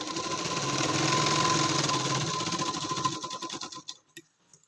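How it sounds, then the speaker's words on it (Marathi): Sewing machine stitching a katori blouse, a close, fast, even mechanical whir of running stitches for about three seconds, then slowing into a few separate clacks before stopping. "बघा मी कशी स्टिच करते बरोबर"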